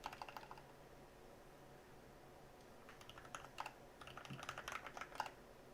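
Quiet keystrokes on a computer keyboard in an office setting, irregular clusters of taps with brief pauses, close and soft with no talking.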